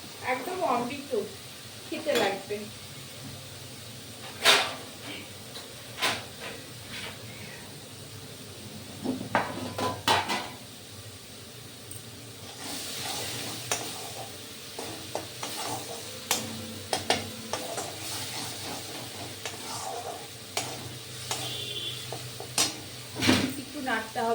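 Repeated scraping and knocking of a spoon stirring thick coriander leaf paste in a pan, with a light sizzle underneath and a voice talking intermittently.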